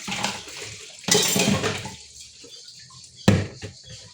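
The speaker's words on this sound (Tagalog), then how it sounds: "Lakas yung tubig dito, guys." Strong stream from a kitchen tap while washing dishes, gushing in bursts with a loud rush near the start and another near the end, mixed with clinks of plates close by.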